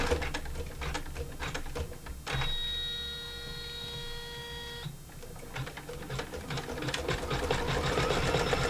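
A sewing machine runs in quick bursts of rapid stitching, with a steadier whirring stretch in the middle, close by and clear, separated by short pauses.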